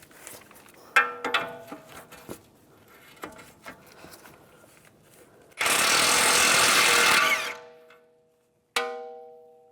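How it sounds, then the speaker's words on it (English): A 22mm socket loosening a nut on a 2004-2010 BMW X3 front steering tie rod: scattered metallic clicks and clanks, then a loud sustained burst of a power tool for about three seconds, and a final sharp metallic ring that decays. "Now I'm going to take a 22mm socket, take this nut off."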